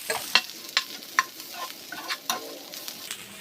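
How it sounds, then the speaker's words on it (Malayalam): Semiya with carrot, capsicum and coriander is stirred in a hot pan, with a spoon scraping and tapping in irregular strokes over a faint steady sizzle, close by and with no talk. "ക്യാപ്സിക്കോ മല്ലിയിലയോടെ ചേർത്ത് ഒന്നുകൂടെ ഒന്ന് മിക്സ് ചെയ്ത് കൊടുക്കാം"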